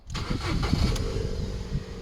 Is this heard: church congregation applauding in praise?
no